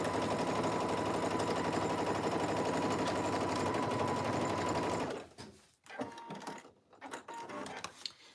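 Sewing machine running fast and steady while stitching the short ends of a jacket cuff, a dense continuous whirr that stops abruptly, followed by clicks and fabric handling.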